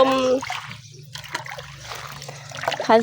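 Vegetables (pak sian) are swished and rinsed in water, giving close splashes and trickles that come and go, with a brief voice at the start and again at the end.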